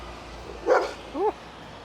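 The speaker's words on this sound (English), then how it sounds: "Very loud dog as well." A dog barks loudly in a small French town street, two short sharp barks about half a second apart, heard over low background street noise.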